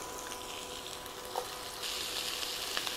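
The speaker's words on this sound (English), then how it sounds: "We're just going to give them a nice little char brownness to the vegetables." Vegetables browning and charring in a hot pan for a crockpot roast give a steady broadband sizzle that grows louder partway through, with small pops and scrapes and no voices.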